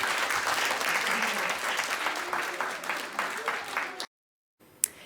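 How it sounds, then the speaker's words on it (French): A theatre audience gives thunderous applause at the close of a play, a thick continuous roar of clapping lasting about four seconds before cutting abruptly to silence, then a brief faint remnant. "le tonnerre d'applaudissements qui a clôturé la pièce"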